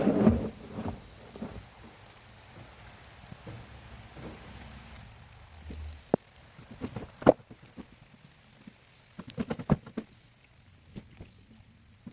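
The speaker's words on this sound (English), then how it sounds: "So unfortunately, this rain's just not letting up. It's just getting stronger." Rain and a thunderstorm outside a house under renovation, steady soft rainfall with a low rumble early on and scattered sharp drops and cracks later, no talking.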